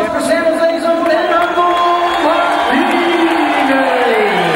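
Boxing arena crowd cheering and whooping continuously at a fight between Orlando Canizales and Gerardo Martinez, a loud, dense roar with an announcer's voice ringing over it.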